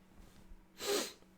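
A single short, sharp sniff through the nose, close and fairly quiet, alone after a faint background hum.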